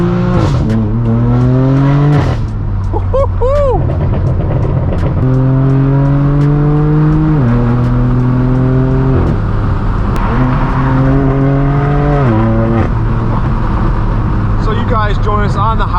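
A straight-piped, Gintani-tuned BMW M4 F82 roars loudly from inside the car as it drives, repeatedly climbing through the revs and dropping at each gear shift, with someone talking over the exhaust.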